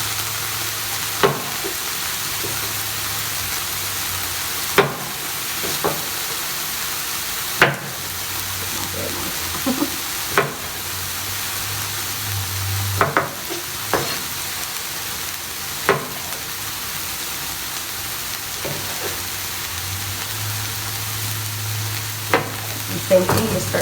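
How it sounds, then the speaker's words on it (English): Vegetables sizzle steadily in a frying pan for a tofu scramble, with a constant close frying hiss broken by occasional sharp scrapes and knocks of a utensil as they are stirred. "just start to add all your vegetables in and keep stirring it"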